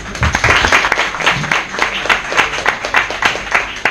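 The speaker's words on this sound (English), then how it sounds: "Round of applause for George." An audience at a staged debate gives a speaker a round of applause, dense close clapping from many hands that swells and holds at a steady level, with a faint murmur of crowd beneath.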